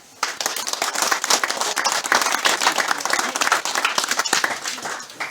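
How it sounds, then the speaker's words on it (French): An audience applauds a volunteer hunting team at a hunting-dog trial gathering, sharp crisp handclaps starting abruptly and continuing in a lively, uneven stream close by, fading slightly at the end. "Je les remercie, on peut les applaudir."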